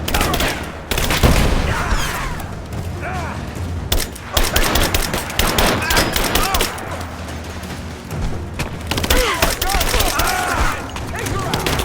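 Sustained bursts of automatic gunfire and rattling fusillades in Rise of the Tomb Raider, loud and dense through most of the stretch, with brief lulls and booming impacts and game voices mixed in.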